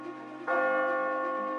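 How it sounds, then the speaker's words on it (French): Church bells ring out across a city in mourning after the Queen's death, a loud resonant peal starting abruptly and sustaining with rich overlapping tones, heard alone without talk. "Les cloches sonnaient dans les églises de la ville."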